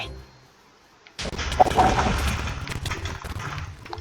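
A sudden burst of heavy booming cannon fire in a modded Minecraft game erupts after a second of near silence, continuing as a loud, rumbling barrage of blasts.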